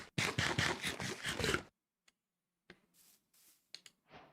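Eating fish in Minecraft: a quick run of about six crunchy, evenly spaced bites, loud and close, then a pause with a few quieter scattered clicks and scrapes.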